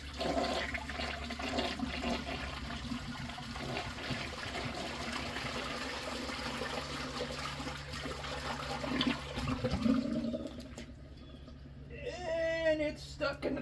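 A 1992 American Standard Cadet toilet flushing, a steady rush of water that drains and trickles down, ending in refill gurgles with a voice speaking faintly toward the end.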